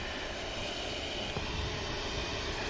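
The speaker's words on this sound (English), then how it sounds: "Next to depart A350 900 series 3-year-old airframe" A three-year-old Airbus A350-900 jet airliner departing Manchester Airport, a steady broad engine roar that holds at an even level throughout, distant and unbroken, with no voices.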